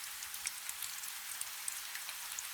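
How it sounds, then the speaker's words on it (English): Steady rain falling on a roof and stone outside, a soft continuous patter with scattered small drop ticks, quiet and even. "It falls in steady sheets now, drumming on the roof and splashing on the stones outside."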